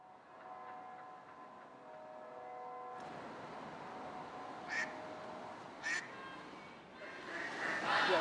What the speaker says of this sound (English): That's a very loud duck.